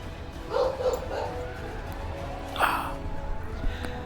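A small dog gives a couple of brief yelps after objects such as a book and a headset are dropped on her indoors, the sharp cries standing out near and moderately loud over a low background hum.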